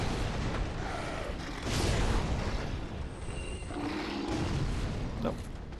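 Explosive barrels bursting in Dark Souls 3, deep muffled booms with broad rumbling swells rising over a loud, steady game background, with a voice talking over it.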